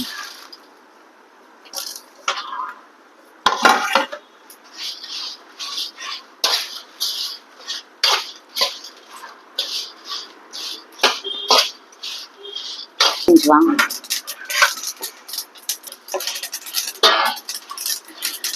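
Ingredients dry-roasting in a pan without oil are stirred with a utensil, making a run of uneven clinks, taps and scrapes against the metal, loud and close, with quiet gaps between strokes.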